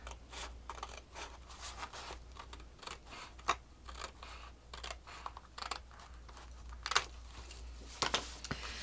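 Scissors trim excess paper off a junior journal page in a series of quick, close, crisp snips and clicks at an irregular pace over a quiet background, with no talking.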